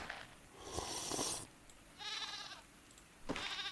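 Goat bleats from the survival card game Card Survival: Tropical Island, three separate wavering calls, each about half a second long, spaced a second or so apart, loud and close with no talking over them.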